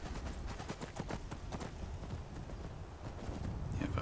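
Horse hooves clip-clop in the Skyrim video game, a steady run of soft, quick hoofbeats heard alone at low level over a faint background wash.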